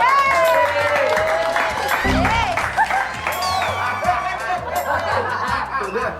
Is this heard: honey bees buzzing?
no